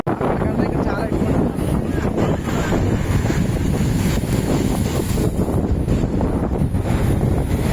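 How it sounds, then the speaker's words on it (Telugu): Sea waves roll in at Pondicherry beach, a constant broadband roar of surf mixed with heavy wind buffeting the microphone, loud and unbroken from start to finish. "సముద్రం."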